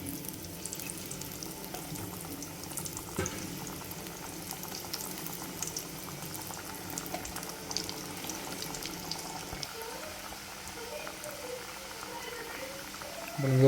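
Kothimbir vadi pieces fry in hot oil with a faint, steady bubbling and a soft spattering hiss, heard at a distance in a quiet kitchen.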